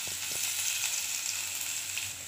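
Finely chopped onion fries in oil with a steady, close hiss, a few soft stirring knocks early and a small clunk at the end.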